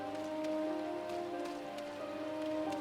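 Rain falls steadily in Final Fantasy 14, a continuous soft patter with scattered drop ticks over a faint sustained musical tone.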